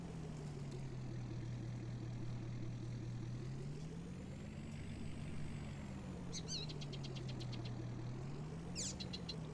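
A vehicle engine drones steadily in Farming Simulator 19, driving along a path on the Port Murray map, its pitch rising and falling gently, with faint chirping higher up near the end.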